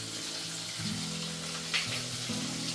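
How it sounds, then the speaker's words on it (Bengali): Potatoes and drumstick pieces sizzling in a pan of hot oil while being stirred, a steady frying crackle with a low humming tone underneath and a brief scrape of the spoon partway through. "এবার আমি নাড়াচাড়া করব"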